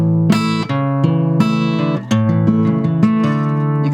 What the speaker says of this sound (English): You can pluck a few strings if you want to.